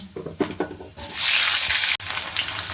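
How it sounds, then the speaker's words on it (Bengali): Potato pieces hit hot oil with a loud, sudden hiss that settles into a steady sizzle with a brief break, after some clattering from the pan, with no talking. "প্রথমে আমি আলুগুলোকে ভেজে নেব"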